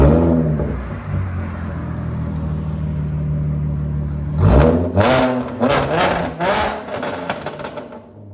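A 2014 Audi S4 with a 3.0L supercharged V6, fully straight-piped with downpipes, drones loudly at idle, then snaps through a string of sharp, aggressive revs up close.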